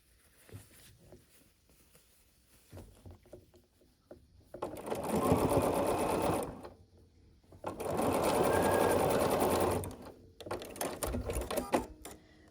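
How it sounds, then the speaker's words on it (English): A sewing machine stitches rows of a scrappy quilt block together in two steady, loud bursts of a few seconds each, separated by quieter fabric handling and small clicks. "I'm just going to keep repeating this process and just sewing all these rows together"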